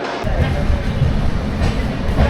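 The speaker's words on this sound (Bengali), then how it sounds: "আমাদের ট্রেন বর্ধমান জংশনে এসে পৌঁছালো" Doon Express rolling into Bardhaman Junction at night, a steady loud low rumble of wheels and carriages close by, continuous for the whole stretch with no voices.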